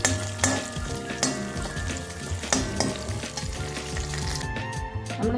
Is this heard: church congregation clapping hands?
no